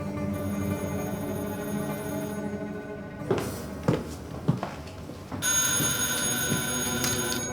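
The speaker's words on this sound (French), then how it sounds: "Soudain, le téléphone sonne." A telephone rings in a quiet room, its bright electronic tone sounding alone at the start and returning after a few soft clicks and knocks.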